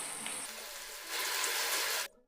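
Onions frying in oil in a kadai, a steady close sizzle that swells louder midway and then cuts off abruptly.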